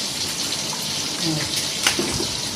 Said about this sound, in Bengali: আচ্ছা, এইটা একটু আমার পিউরিফায়ার জল, রিফাইন জল দিয়ে দিলাম।